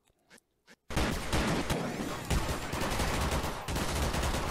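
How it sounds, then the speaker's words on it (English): Rapid bursts of loud gunfire in a Garry's Mod cops-versus-robbers shootout after a few quiet clicks, shots overlapping in a continuous barrage with sharp cracks throughout. "Lots of gunfire."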